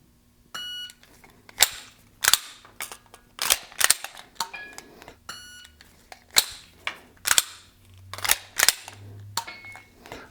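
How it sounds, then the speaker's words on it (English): Pistol malfunction clearance drill: magazine removed and reinserted, slide racked, then fired, repeated as sharp metallic clacks and loud shots, with short timer beeps marking each run, no talking. "We're just going to pull magazine out, rack the slide once, magazine back in, rack, and fire."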